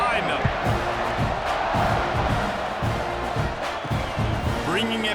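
A stadium crowd in EA College Football 26 roars steadily through a Mississippi State at Texas A&M game, a dense, continuous wash of cheering with no clear breaks, ahead of a kickoff.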